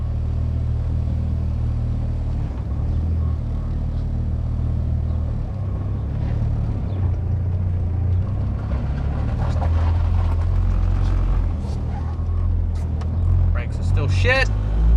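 A K-swapped Honda CR-V with a custom exhaust drives along with a steady, deep rumble heard from inside the cabin, and voices talk over it toward the end.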